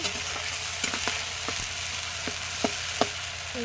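Spice paste of ginger, garlic and dried red chili being sautéed and stirred in oil, a constant close sizzle punctuated by several sharp taps and scrapes of a utensil against the pan, no speech.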